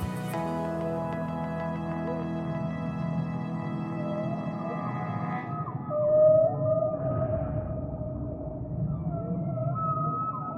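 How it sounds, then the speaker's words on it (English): Long, eerie sperm whale calls in the waters of the Azores, sustained tonal moans and rising whines over a low underwater rumble, fairly loud and steady with no one talking. "The sperm whale is the lord of the Azores."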